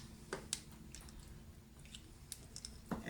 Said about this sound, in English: We just kind of mush it around a little bit.